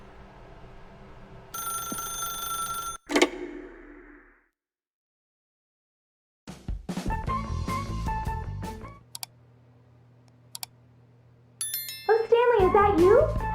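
A telephone rings in the video game The Stanley Parable, two bursts of bright bell-like ringing between stretches of quiet, with game music and synthetic sounds around it.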